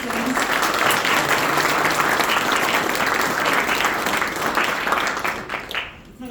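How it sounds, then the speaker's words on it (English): Audience applause at a military promotion ceremony from Major to Lieutenant Colonel, honoring national anthem performances; dense, steady clapping from a large crowd that holds for several seconds and then tapers off near the end. "how about a round of applause for the beautiful renditions of our national anthems?"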